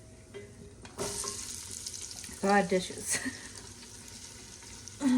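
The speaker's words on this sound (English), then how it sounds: "I like bacon pretty crispy, so I'm gonna add in the onions here." Onions go into a pan with crispy browned bacon and sizzle softly for a few seconds, with some clattering and running water in a home kitchen while a person talks.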